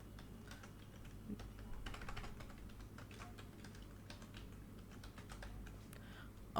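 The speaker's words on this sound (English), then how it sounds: "Here after username followed by a space, type your username." Steady clatter of a computer keyboard as a username is typed, a run of quick, irregular keystrokes heard close and fairly quiet against low background hum, with a brief louder knock at the very end.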